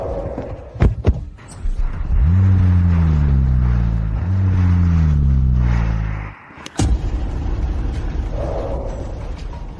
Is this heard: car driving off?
yes